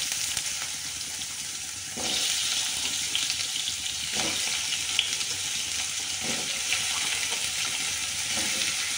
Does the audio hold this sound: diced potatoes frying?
yes